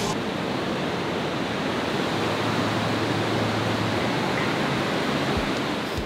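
Ocean surf at a Central America surfing contest with large, powerful waves makes a steady, broad roar of breaking water that fills the whole stretch with no talking.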